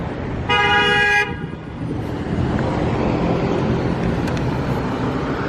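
Busy Los Angeles street traffic, one loud car horn blaring for about a second over a dense, continuous rumble of passing vehicles, with fainter road noise continuing after the honk.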